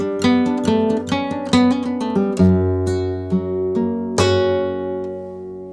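A flamenco guitar plays a quick Soleá phrase for beats 7, 8 and 9 of the compás, with a fast run of plucked notes and sharp strummed accents, close and loud and alone.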